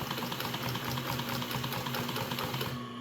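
A Consew 206RB industrial walking foot sewing machine running under foot-pedal speed control, a steady close rhythmic clatter of needle strokes with a motor hum, stopping near the end.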